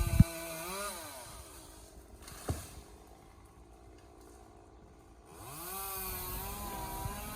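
A running chainsaw, handled by a climber up an oak tree during removal in a cypress swamp, drones steadily from a distance, its pitch rising and falling as it revs, with one sharp knock partway through.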